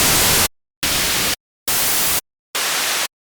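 Stereo white noise for drum sound design plays in four even bursts of harsh, full hiss, each about half a second long and separated by short silences, loud and alone.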